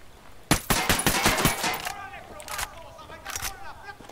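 Automatic gunfire in the video game Ghost Recon Wildlands, a loud close burst of rapid shots followed by scattered distant pops and echoing tails, with shouted voices over it.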